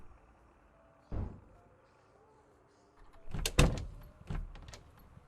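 A door in Project Zomboid being bashed by zombies, one dull thud followed after a pause by a cluster of heavier, louder impacts, heard fairly close with low background noise and no talk.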